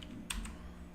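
A few quick clicks of typing on a computer keyboard, faint and brief, over a steady low background hum.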